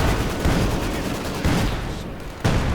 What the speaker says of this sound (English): Bit of a barrage right there going against the MG42